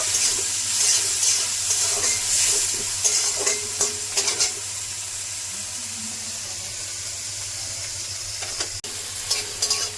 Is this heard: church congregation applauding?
no